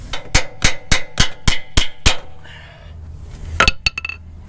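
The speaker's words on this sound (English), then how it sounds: "I'm just beating the hell out of the threads" A hammer strikes the end of a crusty control arm bolt on a 2003-2011 Ford Crown Victoria's front suspension. Eight sharp metallic clanks come in a steady rhythm, a pause follows, then a few more quick, ringing hits.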